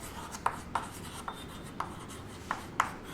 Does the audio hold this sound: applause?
no